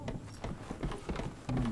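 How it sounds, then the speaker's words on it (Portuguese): Horse hooves clip-clopping in the video game Resident Evil 6, a quick run of close, uneven hoof beats with a short whinny-like tone at the end. "Aí veio o cavalo pra mim."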